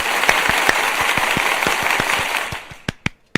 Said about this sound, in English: A little round of applause for Denver.